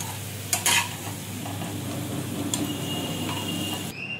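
Small shrimp fritters sizzle steadily in hot oil with a constant near frying hiss and a few sharp clinks of a utensil against the pan.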